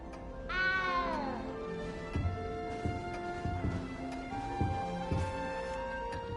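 A cat meows once, a clear rising-and-falling cry inside the video game Hogwarts Legacy, followed by a steady bed of game ambience with soft rhythmic thumps and tones.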